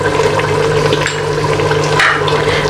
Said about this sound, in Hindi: अब इसमें आधा कप ऑयल डालेंगे